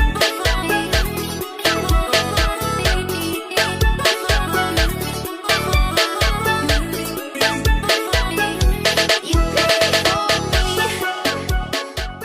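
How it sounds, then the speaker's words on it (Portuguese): Upbeat intro jingle with a steady driving beat, punchy drum hits and bright layered synths, loud and continuous with no talking, opening a video about riding electric scooters. "solta a vinheta, PH"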